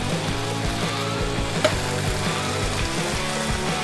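String beans sizzling in a hot pan after a splash of red wine vinegar, giving a steady, loud, close frying hiss with a sharp crackle near the middle and no talk.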